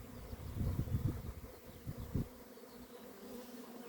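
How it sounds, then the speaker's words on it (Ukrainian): Honeybees buzzing around apiary hives on an early spring morning near a rapeseed field, a dense low hum with a few louder close passes in the first half before settling into a softer steady drone. "Бджоли працюють."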